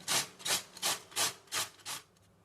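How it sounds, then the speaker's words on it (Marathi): Cabbage grated by hand on a grater: six evenly spaced rasping strokes, close and fairly quiet, each a short scraping swish, with silence after the last. "हे पहा, कोबी किसून घेतलेला आहे"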